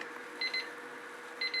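A timer alarm gives two quick pairs of high, thin electronic beeps about a second apart, faint over a steady background hiss.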